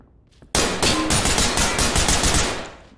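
A burst of rapid automatic gunfire in a SWAT-themed video game, loud and close, its shots running together in a steady rattling stream for a couple of seconds before tapering off slightly.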